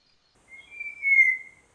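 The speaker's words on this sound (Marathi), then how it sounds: "ह्या मलबार विस्लिंग थ्रशच्या सुंदर आवाजाने" A single clear, drawn-out whistle of a Malabar whistling thrush, rising slightly and sustained for about a second, sweet and tonal against a silent background, on a forest trail at Matheran.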